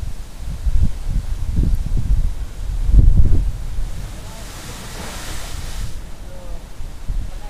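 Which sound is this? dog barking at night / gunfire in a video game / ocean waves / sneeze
ocean waves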